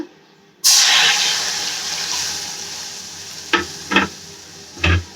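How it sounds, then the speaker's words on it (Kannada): Milk poured into a pan for vermicelli payasa, a steady close liquid rush that starts abruptly and slowly thins, followed by a few short clinks and scrapes near the end. "ಈಗ ಪ್ಯಾನ್ಗೆ ಮಿಲ್ಕ್ನ ಹಾಕೊಂಡು ಬಾಯ್ಲ್ ಮಾಡ್ಕೊಳ್ಳೋಣ."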